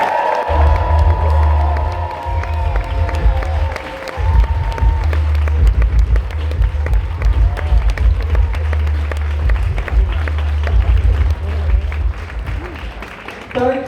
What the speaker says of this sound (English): Guys, 1, 2, 3, 20, clap, cheer.